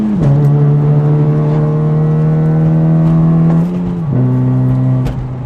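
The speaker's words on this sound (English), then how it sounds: "It's got a K-Tune full race exhaust, and it's got headers, and it's just a straight pipe all the way through" An eighth-generation Honda Civic FA1 with a K-Tune full race exhaust, headers and a straight pipe idles and revs up close and loud, holding a steady high drone that dips and settles twice.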